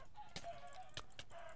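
Chickens in the video game Minecraft give a few short, faint clucks spaced apart over a quiet, steady background.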